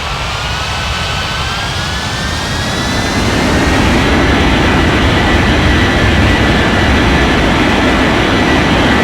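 An airliner jet engine in an air traffic control game spools up for takeoff with a rising whine and a broad roar that grows louder around midway and then holds steady.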